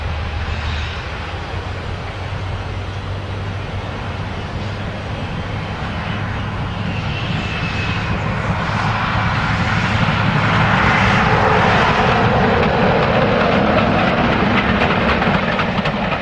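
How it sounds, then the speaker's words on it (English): A Class 45 diesel locomotive, Sherwood Forester, pulling away from Corfe Castle station, its engine a steady heavy drone that swells louder as it builds power, with a brief horn-like tone midway. "Sherwood Forester pulls away from Corfe Castle in 2009"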